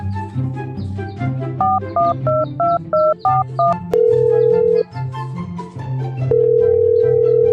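A mobile phone call being dialed: a quick run of keypad tone beeps, followed by long steady ringing tones with a short gap between them, heard up close and alone.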